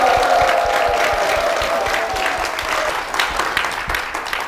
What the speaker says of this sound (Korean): 우리 담임 목사님과 교회를 위해서 큰 박수 부탁드립니다